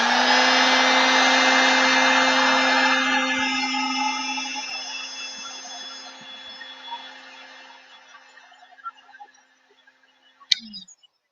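A small industrial heat gun blows hot air to shrink heat shrink tubing over a soldered wire joint, with a loud steady whine and rush that spins down and fades out, followed by a few light handling clicks.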